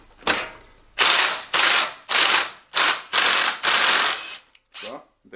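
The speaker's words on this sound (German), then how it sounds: "in dem Fall hat jetzt der Schlagschrauber ein bisschen länger gebraucht. Mutter ist gelöst." An impact wrench with a 15 mm socket loosens a nut on a D50B0 motorcycle engine during teardown, firing in a series of loud, close, harsh rattling bursts separated by short gaps, with a couple of brief taps at the end.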